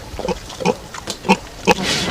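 Several pigs grunt and oink in short bursts a few times over two seconds, fairly close and loud, with no talk over them.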